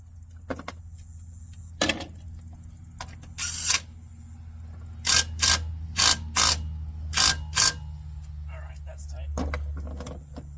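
A 10 mm ratchet and socket tightening a bolt on an AC compressor bracket of a 1998 Dodge Ram 1500 5.9, with a series of short, close metallic clicks in quick bursts over low background hum.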